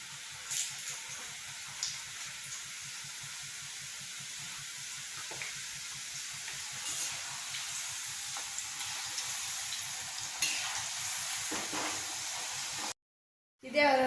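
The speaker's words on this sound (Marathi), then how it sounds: "तर ते तेलामध्ये सोडूया." Snacks deep-fry in hot oil, making a faint, steady sizzle and bubble that runs unbroken for most of the stretch, then stops briefly before a short final burst.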